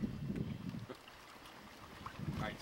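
Gusty wind buffets the microphone outdoors among a milling crowd in Italy, low rumbling bursts at the start and end with a quieter lull between.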